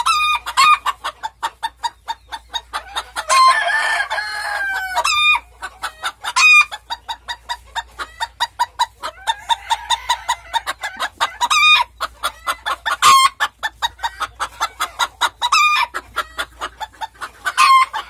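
A rooster and hens at an ornamental poultry breeding farm, including silkies and Sebright bantams, cluck steadily and rhythmically up close, with a loud crow early on and further calls throughout.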